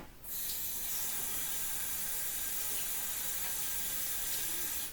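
Steady running tap water splashing into a kitchen sink while greasy hands are washed under it, a continuous close hiss that starts abruptly and holds evenly throughout, no voices.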